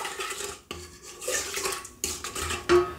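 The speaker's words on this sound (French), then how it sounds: "Je mélange à nouveau." Mixing yeast and sugar into dough in a bowl, with a utensil clinking and scraping against the bowl in uneven strokes separated by brief pauses, close up and alone.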